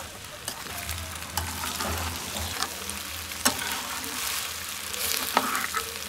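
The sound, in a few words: pasta with egg and chilli being stir-fried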